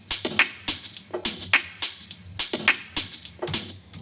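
A looping house percussion pattern with punchy kicks and bright hi-hat and snare hits repeating steadily in a tight, driving rhythm, with no voices.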